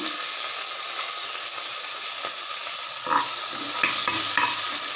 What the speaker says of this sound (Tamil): இதுவும் இதில் வதங்கி இறக்கும் எல்லாம் லைட்டாக அந்த பச்சை வாசனை போகிற அளவுக்கு வதங்கினா போதும்